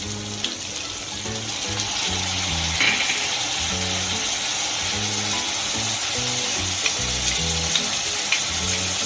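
Vegetables for veg hakka noodles stir-fry in a hot pan, a steady loud sizzle with repeated scraping and clattering of the spatula throughout, with no talking.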